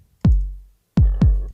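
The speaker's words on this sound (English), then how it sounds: "So I added a 99 kick drum from Ableton" Ableton 909 kick drum played on its own, three booming low thumps with long decaying tails, the first alone, then two closer together, dry and clean against silence.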